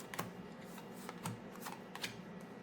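Playing cards being drawn and shuffled during a Villainous board game, a few soft quick card flicks and slides at irregular intervals, close and fairly quiet with no talking.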